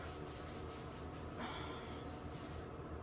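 Hands scrubbing a scalp during hair washing with curl care products, a steady close rubbing and squishing texture that continues without pause and without talk.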